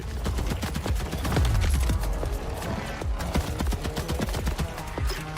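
Rapid gunfire from the video game Borderlands 4, a dense run of sharp shots with heavy low-end thumps, loud and continuous throughout, with no talk over it.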